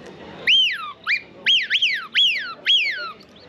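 A handheld whistle imitates a Eurasian wigeon's call: a run of sharp, falling whistled notes, some in quick pairs, loud and close, at a hunting and fishing fair in Sologne, France.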